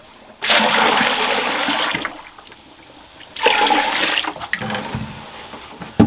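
Water pours in two strong bursts into a container of chicken feed, a bright rushing splash that stops, pauses in near silence, then resumes with trickles.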